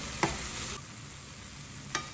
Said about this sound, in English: we're just gonna saute this